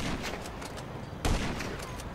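A single long rifle shot cracks out in a video game, a sharp loud burst standing above a dense, noisy background of battle din.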